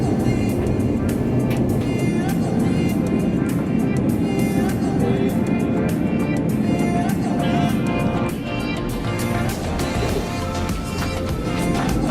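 Steady, loud broadband roar of a Uganda Airlines Airbus A330-800neo airliner landing at Entebbe on its delivery flight, a dense rumble with faint rattling clicks that eases slightly near the end.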